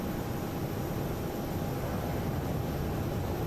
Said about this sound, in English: we absolutely love pure airplane sounds